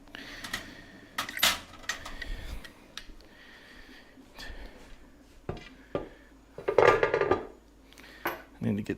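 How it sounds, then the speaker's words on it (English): Metal pots, lids and a canning jar lid clank and clatter in a kitchen during salmon canning. The sharp knocks and rattles come in scattered bursts with quiet handling noise and breathing between them. "I need to get this lid set up."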